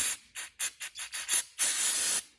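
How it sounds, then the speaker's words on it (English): Seven short aerosol bursts of brake cleaner in quick succession onto a 2006 Chevy Avalanche fuel injector, then one longer continuous hiss, close and fairly loud. "spray some brake cleaner on it a little bit"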